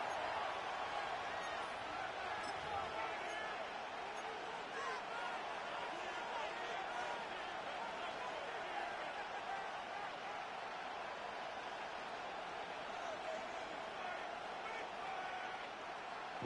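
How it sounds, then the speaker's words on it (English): A broad, steady roar from a packed football stadium crowd in a video game, constant and moderately loud for the whole stretch, with no distinct peaks. "This crowd turning up the decibel level"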